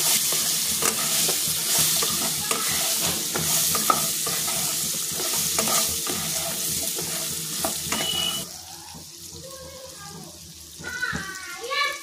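Drumstick pods (shevga) fry in a pan with steady loud sizzling and repeated scraping stirs; near the end the sizzle drops away and a brief voice speaks.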